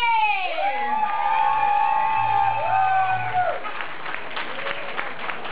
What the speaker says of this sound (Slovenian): No, ploskamo zdaj za plesni par številka 2!